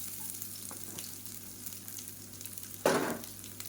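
Black channa dal and large onions with curry leaves sauté in a pan, giving a soft continuous sizzle and a few light stirring scrapes, then a sudden louder burst of frying as more goes in near the end.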